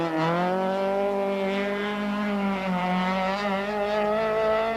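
An Opel Manta rally car on a stage at the 1992 Donegal International Rally holds a loud, sustained engine howl as it slides tail-out, the pitch wavering slightly without a break.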